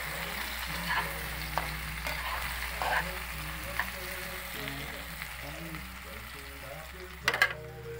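Eggplant adobo frying and being stirred in a pan, a steady soft sizzle broken by a few spatula scrapes and knocks, with a sharper clatter near the end.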